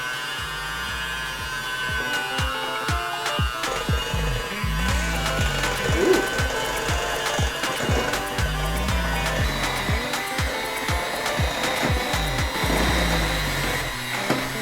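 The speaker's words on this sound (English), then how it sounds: "So let's start the whisking process." A motorized whisk whirs steadily in a kitchen while homemade s'mores filling is whipped, the buzzing motor broken by repeated clattering knocks against the bowl, close and fairly loud throughout.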